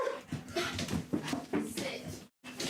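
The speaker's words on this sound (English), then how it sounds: "Oh, the dog just goes so ballistic when somebody comes in." A dog whimpers and yips excitedly as someone comes in through the door, the high whines coming in bursts under people talking nearby.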